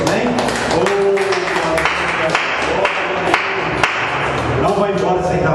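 A church congregation claps to praise God, a loud dense wash of many hands clapping with sharper individual claps standing out, and voices mixed in underneath throughout.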